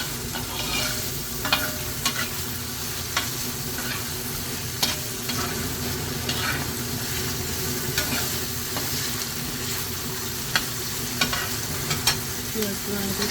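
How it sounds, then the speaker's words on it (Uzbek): Onion and meat fry in a pan with a constant close sizzle, and sharp clicks of a utensil stirring and scraping come at irregular intervals throughout. "Piyoz bilan go'shtni yaxshilab qovurib, endi kartoshka soldik."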